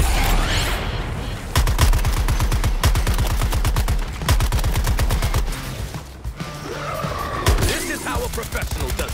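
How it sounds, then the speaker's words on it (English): Loud, rapid machine-gun bursts in Suicide Squad: Kill the Justice League, long rattling strings of shots broken by short pauses, joined by whooshing engine and skidding noises near the end. "Covering fire!"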